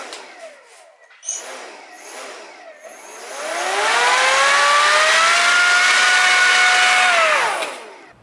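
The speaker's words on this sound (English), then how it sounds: "If your motor is spinning the wrong way," An electric motor with a propeller fitted for a 3D printed hovercraft, tested on the bench: faint ticks and brief whirs first, then a loud whine that ramps up, holds steady for about four seconds and spins down.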